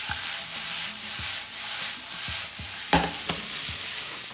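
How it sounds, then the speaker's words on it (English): Onions sautéing in fat in a pan for French onion soup, a steady close sizzle broken by repeated thumps and scrapes as they are stirred, one sharper clatter near the end. "Now that the onions are in the pan, they're gonna stay there. I'm gonna stir often"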